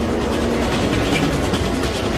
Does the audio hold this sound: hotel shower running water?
no